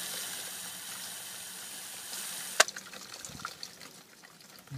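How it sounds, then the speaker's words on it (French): Water trickles and drains through a freshly repotted Chinese elm bonsai pot, a soft continuous flow that turns into scattered splashes and drips after a sharp knock partway through. "Et l'eau coule bien clair dessous."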